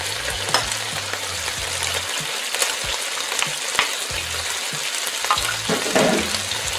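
Ground garlic hits a hot pan of browned beef for Peruvian lomo saltado, sizzling loudly and steadily while a utensil scrapes and stirs in irregular knocks, with no talking.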